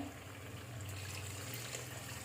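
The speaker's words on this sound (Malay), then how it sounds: "Kita masukkan air." Water poured into a cooking pot while making beef curry, a continuous gushing trickle with a low hum underneath, fairly faint and steady.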